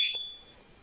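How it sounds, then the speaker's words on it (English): A home security alarm gives a single short electronic beep, faint and high-pitched, fading quickly into quiet room tone. "what the heck was that? That was the alarm."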